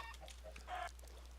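Chickens in the video game Minecraft give a short, faint cluck near a semi-automatic cooking contraption, a single brief call over a low steady hum.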